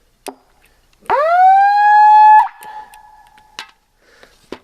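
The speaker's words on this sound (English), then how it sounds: "Next, a bullhorn with the siren. This thing is loud." A loud electronic siren from a bullhorn rises sharply and wails for about a second, then cuts off, followed by a few faint clicks.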